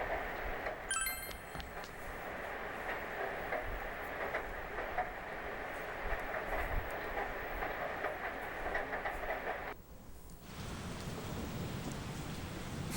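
Heavy rain pours down at night in the game Persona 4, a steady, dense hiss that holds for most of the stretch, then cuts out briefly before resuming.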